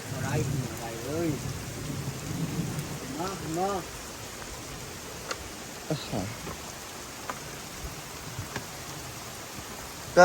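Steady rain patters on surfaces outdoors during a storm, with a voice talking over it early on, then the rain continuing alone with occasional drips and faint rumbles.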